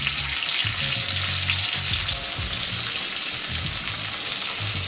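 A tuna steak sears in a hot pan with a loud, dense, continuous sizzle and crackle, close and unbroken for the whole stretch.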